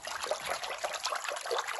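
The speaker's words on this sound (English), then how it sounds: "this is the sound of the water." Water trickling and draining steadily during handmade Japanese papermaking, a soft continuous splashy hiss with gentle irregular pulses, close by and fairly quiet.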